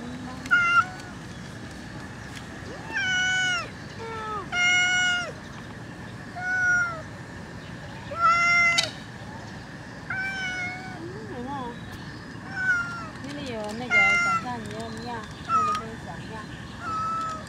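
A yellow cat in a botanical garden meows repeatedly, a dozen or so short, rising-and-falling mews spaced through the stretch, close and clear, with soft talking murmured in between.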